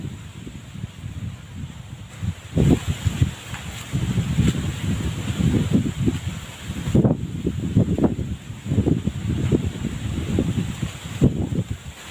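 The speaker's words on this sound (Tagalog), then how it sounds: "napakalakas ng hangin" Strong outdoor wind buffeting the microphone in rough, uneven gusts, with rustling tree leaves nearby and surges that swell and drop over several seconds.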